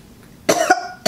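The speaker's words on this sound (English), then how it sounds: "It's okay, it's making me cough." A woman gives two short, sharp coughs up close, the first slightly drawn out, the second following after a brief pause.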